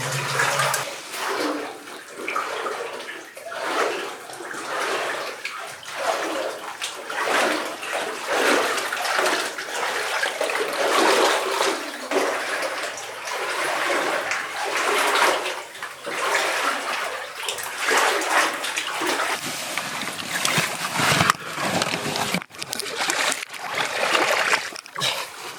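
Someone wading through deep water inside a mine stope, with continuous sloshing and splashing from each stride, close and fairly loud, echoing slightly, with no talk over it.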